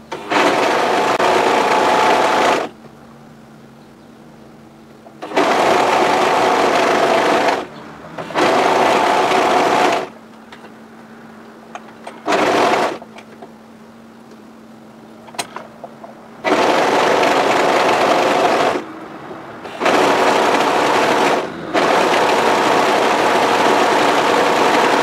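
An overlocker serges the edge of light, curly winter-weight t-shirting knit in several loud, steady bursts of a few seconds each, separated by quieter pauses with a low hum.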